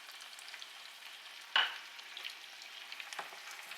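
Seasoned potatoes get stirred in a pan, with one clear scrape and clink of the utensil and a later softer scrape over a quiet, faint sizzle.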